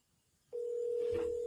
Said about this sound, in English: Let me see if he answers his phone if I call him.